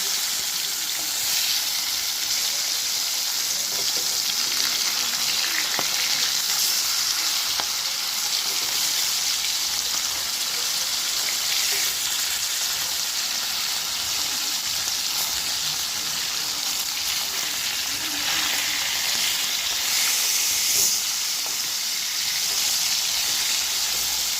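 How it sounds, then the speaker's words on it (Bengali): Pieces of rohu fish frying in hot oil make a steady, even sizzle that continues for the whole stretch, with only a few faint clicks and no voices. "আমার মাছ ভাজা হয়ে গেছে, এবারে আমি তুলে নেব"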